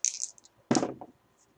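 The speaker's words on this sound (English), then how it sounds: "Dice roll." Dice rolled for a football trading card break, a quick clatter of small rattling hits followed by a second louder tumble that settles, close by and on their own with no talk.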